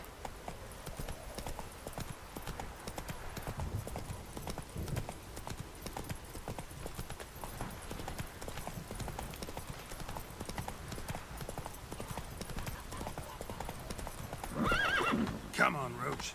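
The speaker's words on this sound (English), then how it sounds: "Run, Roach" A horse gallops with continuous rhythmic clip-clop hoofbeats in The Witcher 3: Wild Hunt, then neighs loudly near the end, with speech over the hooves.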